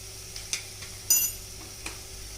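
Dal sautés gently in a pan with Kashmiri red chili powder and ginger paste for a Sindhi saee bhaji, making a quiet sizzle broken by a few sharp spoon clinks and scrapes against the pan.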